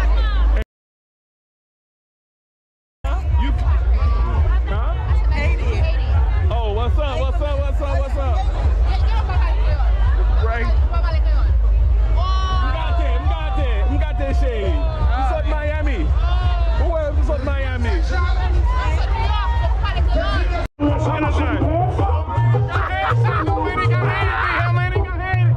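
A huge, dense crowd at Notting Hill Carnival, Europe's largest Caribbean street party, roars continuously with overlapping voices and close chatter after a brief silent gap near the start.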